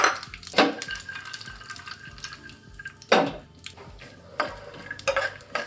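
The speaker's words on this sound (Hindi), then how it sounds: "ये मैंने काजू बादाम लिए, इनको मैं फ्राई कर लेती हूँ।" Cashews and almonds frying in a pan with a spoon stirring, several scraping, clattering strokes over a soft sizzle, close and moderately loud, no talking.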